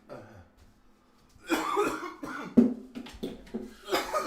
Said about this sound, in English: Oh, what a chesty cough I've got.